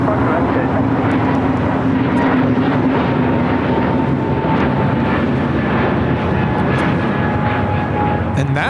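An Airbus A320neo airliner takes off at LAX, its engine roar a steady, loud broadband rumble that holds for the whole stretch with a faint whine on top, while radio chatter and voices talk over it.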